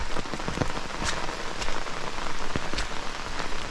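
Steady rain falls on a mountain trail in the Bigelow range along the Appalachian Trail, with puddles all around, a loud, dense patter with sharper drops spattering close by throughout.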